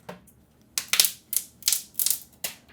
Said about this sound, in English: The protective layer is beginning to be removed